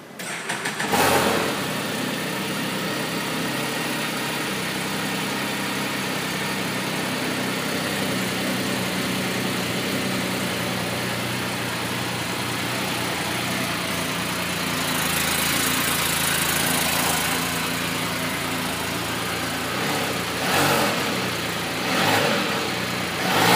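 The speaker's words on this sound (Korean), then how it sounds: "아 맞다, 엔진 소리." A 2020 Can-Am Spyder RT Limited three-wheeled motorcycle starts up and settles into a steady, loud idle close by, its engine note holding even with a couple of brief swells, and no one speaking over it.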